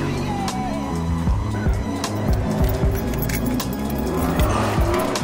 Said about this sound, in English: let's go turn on the car and air it out quick